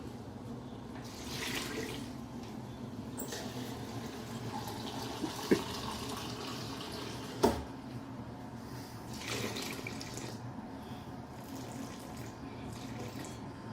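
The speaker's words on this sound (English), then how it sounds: "I'm going to measure 600 grams of filtered water" Filtered water pours steadily into a container on a kitchen scale while sourdough pizza dough is being made, a continuous close trickle with two brief clinks partway through.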